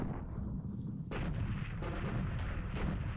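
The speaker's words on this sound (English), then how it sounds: "It's got a lot of flak there." Anti-aircraft flak bursts in the War in the Pacific strategy game, a steady low rumble broken by several sharp, loud cracking detonations.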